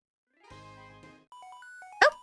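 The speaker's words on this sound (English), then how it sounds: "Oh, we got a phone call." A short electronic phone-call ringtone from a Pokemon video game chimes in a quick melodic run of beeps, preceded by a brief tonal jingle and ending with a sharp bright burst.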